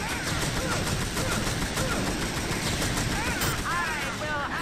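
Rapid gunfire from the video game TimeSplitters Future Perfect forms loud, dense, continuous bursts with a few whooshing tonal sweeps near the end.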